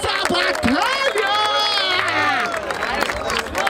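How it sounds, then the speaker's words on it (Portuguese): A rap battle crowd claps and cheers loudly, a dense roar of hands and whoops filling the space while a voice rings out over it. "Palmas pra essa batalha!"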